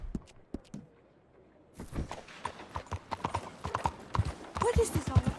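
A horse's hooves clip-clop on the ground as it is ridden in Red Dead Redemption 2. A few hoofbeats are followed by a short pause, then a steadier, louder run of close hoofbeats.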